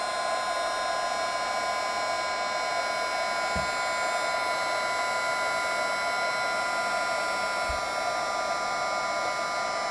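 A heat gun melts embossing powder on cardstock. It blows with a steady, loud, whining hum throughout, and two faint soft knocks come partway through.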